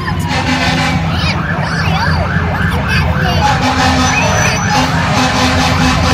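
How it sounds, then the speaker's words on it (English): A loud wailing police car siren rises and falls repeatedly over constant traffic rumble during a motorcade, close by and sustained throughout. "A police car."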